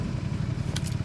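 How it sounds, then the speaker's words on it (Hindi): Motorbike engine in the PUBG video game as the rider stops, a low rumbling idle with steady throb and a brief crackly high burst near the end, close and fairly loud with no talking. "और बाइक रोक ली मैंने।"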